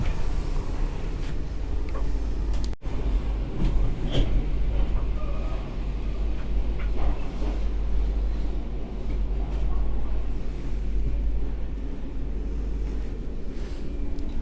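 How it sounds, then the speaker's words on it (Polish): Intercity ED160 Flirt electric passenger train heard from inside, a steady low rumble and rolling hum running throughout with a brief clunk early on, no talk. "Czy my musimy tym pociągiem jechać Sienkiewicz?"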